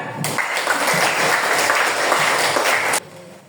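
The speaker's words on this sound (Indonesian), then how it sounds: "Ya, tepuk tangan." A classroom group applauds during an Islamic religious education lesson. Loud, dense clapping starts abruptly, holds steady for nearly three seconds, then cuts off.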